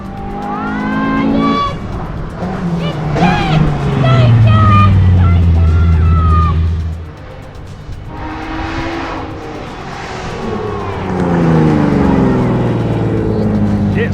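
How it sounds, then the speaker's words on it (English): Rally cars at the Adelaide Rally, including a Datsun 180B SSS and a GT3 911, pass with loud revving engines that rise and fall as they accelerate and shift, with brief tire noise and a voice talking over them. "Just listen to these awesome race cars."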